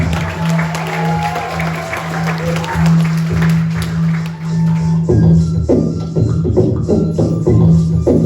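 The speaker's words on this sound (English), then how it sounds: "Give this guy a round of applause." An audience at an intertribal gathering at a friendship house in Oakland claps. Sustained applause and crowd noise are joined near the end by a strong hum and sharper rhythmic claps.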